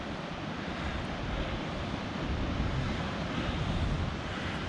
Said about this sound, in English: kind of a little area where you can sit and listen to the ocean and look out over the ocean